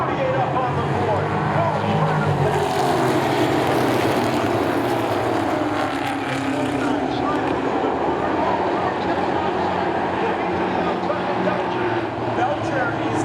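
Late model race cars roaring through a corner at Seekonk Speedway, a dense, sustained engine drone that stays loud and continuous, with a commentator talking over it.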